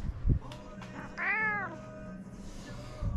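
A cat gives a single drawn-out meow in the middle, with faint rustling and handling noises before and after it and no talking.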